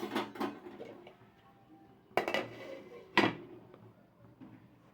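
Peas and potatoes being stirred in a pot before it is covered, heard as a few sharp clacks and knocks of utensil and lid against the pot with quiet handling noise in between, close and moderately loud.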